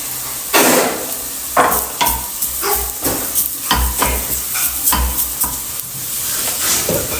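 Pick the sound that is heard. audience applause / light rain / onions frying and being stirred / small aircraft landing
onions frying and being stirred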